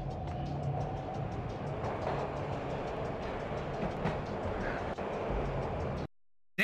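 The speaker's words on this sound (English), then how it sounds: "This was my second train ride of the night." A train ride in Max Payne rumbles on steadily with a constant low roar and faint clickety-clack of rail wagons, then cuts to silence.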